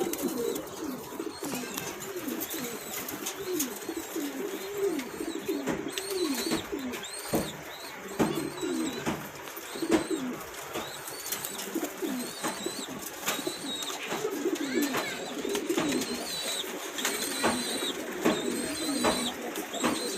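Pigeons cooing repeatedly in soft, rolling, overlapping calls at a pigeon seller's loft, fairly quiet and steady throughout with faint background noise and no speech.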